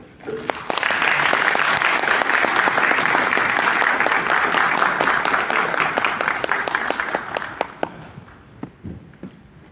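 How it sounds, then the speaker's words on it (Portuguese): Audience applause greets speakers taking their places on stage at an event on resilient cities and risk management, a loud sustained burst of many hands that thins into scattered individual claps before stopping. "Os aplausos os recepcionam."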